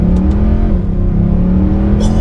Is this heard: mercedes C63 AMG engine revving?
yes